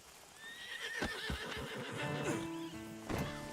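A horse in the Red Dead Redemption 2 video game gives a loud, close whinny with a wavering pitch. Soft hoof clip-clops and game sounds follow, and a short second neigh comes near the end.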